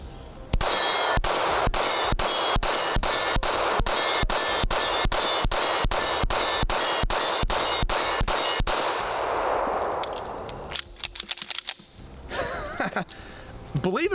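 A CZ Shadow 2 Carry pistol fires a rapid string of about twenty evenly spaced sharp shots at close range, loud and crisp, followed by fading echo and a few scattered clinks and voices.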